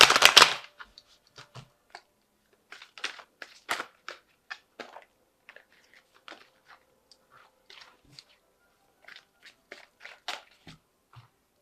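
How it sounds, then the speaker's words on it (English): Tarot cards are shuffled and handled in scattered bursts of crisp riffling and tapping, with quiet pauses between them, close up. "Let's just give it another shuffle."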